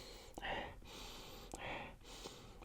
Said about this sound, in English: so let's give this a sniff.